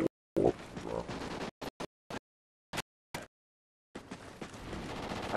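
Call of Duty: Ghosts gunfire: a sustained volley, then several short, sharp separate bursts with silent gaps, followed by continuous noisy battle sounds.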